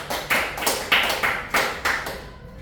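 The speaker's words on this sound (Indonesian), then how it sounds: "Mungkin bisa kita beri aplaus untuk Sarah" Classroom applause for a student named Sarah, a small group clapping in a handful of separate bursts, moderately loud and fading out.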